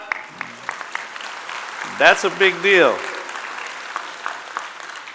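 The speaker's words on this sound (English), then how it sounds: "That bill, you can clap." Scattered audience clapping at a union delegates' conference, light sparse claps under a brief spoken remark from the stage, fairly faint and intermittent.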